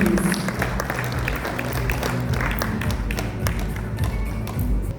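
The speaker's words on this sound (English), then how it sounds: "Can we have a huge round of applause and welcome both of them, please?" An audience at an IT partner summit claps steadily, dense continuous applause with scattered sharper claps over a low rumbling hall.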